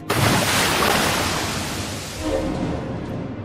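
Strong waves surging and crashing against a boat at sea, a loud, continuous broadband roar that swells and eases with no voices.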